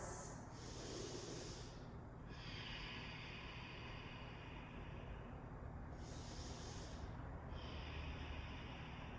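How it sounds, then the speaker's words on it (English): Slow, deep breaths during a hamstring stretch: two long inhale-exhale cycles, each a soft airy hiss, close and quiet against a low steady background hum. "5 deep breaths"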